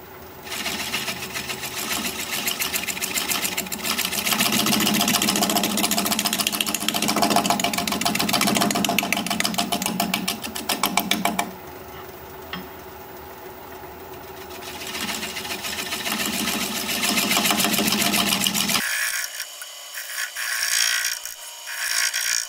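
A wood lathe spinning a natural holly crotch blank while a tool makes cleaning cuts, a loud steady mechanical whir with rhythmic cutting chatter, a brief quieter stretch, then fading toward the end.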